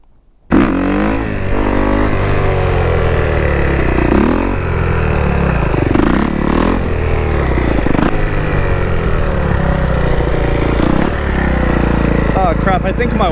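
A Kawasaki motorcycle engine starts abruptly and revs repeatedly, loud and close, with its pitch rising and falling through repeated throttle blips.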